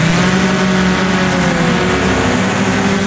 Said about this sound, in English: slide the car sideways through there